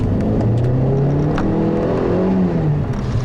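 A 2015 Mercedes-Benz CLA250 drives in sport mode, its engine giving a steady, moderately loud drone with a slight rise and fall, heard from inside the car with no talk.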